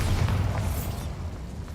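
The Bombarda blast spell in Hogwarts Legacy, a single dense, rumbling explosion that fills the moment and fades out over under two seconds, with no one speaking.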